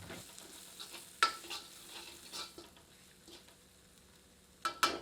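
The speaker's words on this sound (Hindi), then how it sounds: "सबको अच्छी तरह मिलाकर 2 से 3 मिनट धीमी आंच पर भूनते हैं।" Ground cumin and fennel roasting with other spices in a pan on low flame, a faint gentle sizzle with a few sharp spoon clicks and scrapes against the pan, close and quiet, no talking.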